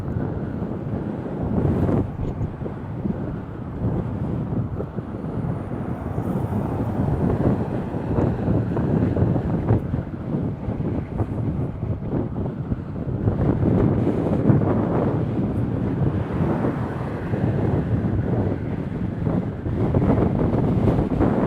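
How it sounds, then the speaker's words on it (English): Strong wind buffets the microphone continuously while riding outdoors, a loud, steady low rumble with gusty swells throughout and no talking. "Oh man, that wind. It's pushing."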